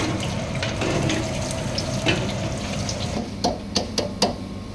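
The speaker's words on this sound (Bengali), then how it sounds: "এখন একটা একটা করে তেলে ছেড়ে দেবো।" Corn aloo tikki patties sizzling in hot oil, a steady hissing fry with a few sharp pops and crackles near the end.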